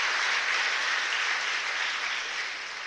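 Audience clapping for teachers at a Tamil talk, a dense, even roar of applause that carries steadily and tapers slightly at the end.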